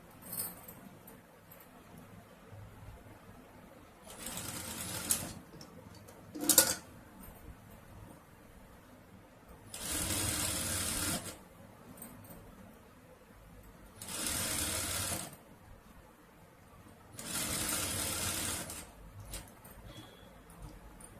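A sewing machine stitches a jacket made from a saree pallu in several short bursts of whirring, each lasting a couple of seconds, separated by quiet pauses with faint handling clicks.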